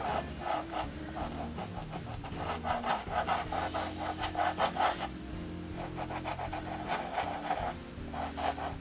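A paintbrush loaded with pink and white acrylic paint scrubs back and forth across canvas, a close, rhythmic rasping with repeated strokes in steady bursts, heard alone without voices.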